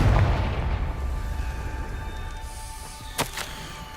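Confringo fire-blast spell in the PC game Hogwarts Legacy: one deep, heavy boom at the start that rolls off slowly, followed by a brief sharp crack near the end, with no talking.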